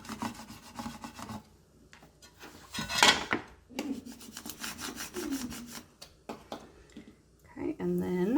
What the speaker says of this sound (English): and then use my scraper to scrape it down